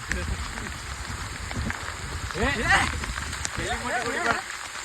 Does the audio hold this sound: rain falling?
yes